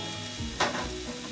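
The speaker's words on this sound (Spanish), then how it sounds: "Ya que está bien caliente nuestro aceite, vamos a ingresar la cebolla." Chopped onion hits very hot oil for kibbeh, giving a brief burst of sizzle over a steady low hiss, fairly faint and alone with no talk.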